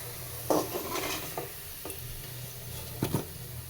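A spatula scrapes and stirs fried potatoes in a pan with a few sharper clinks and scrapes as pieces are lifted, over a low, steady sizzle and hiss, quiet and close.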